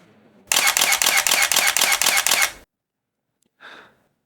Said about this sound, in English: let's have a listen at the shutter